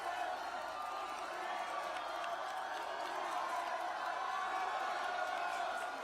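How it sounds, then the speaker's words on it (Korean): A crowd applauds and cheers at Lee Jae-myung's election rally in Geoje, a dense, steady wash of clapping and shouting that holds for the whole stretch without letup. "네, 큰 박수 부탁드리겠습니다."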